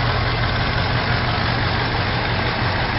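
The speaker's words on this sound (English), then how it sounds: "this is the 425 cubic inch V8 engine" A 1967 Oldsmobile Toronado's 425 cubic inch V8 idles after a cold start on an icy day, a loud, close, steady low rumble that holds without revving and with no voices.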